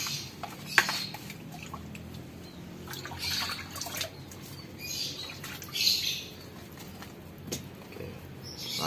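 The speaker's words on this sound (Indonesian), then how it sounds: "langsung kita siram saja pakai cairan fungisida dan bakterisida" Fungicide and bactericide liquid is poured onto a potted plant's fresh growing medium, giving soft, uneven splashing and dripping with a few sharper drops, while birds chirp faintly in the background.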